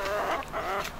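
Hens on an allotment give a short run of close, soft clucks, a few quick rising calls with no talk over them.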